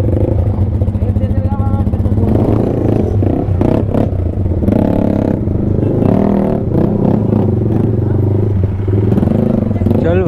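Mahindra Thar SUVs and motorbikes drive up the road at Amer Fort in Jaipur, engines revving and clattering nearby through the whole stretch while people talk over the traffic.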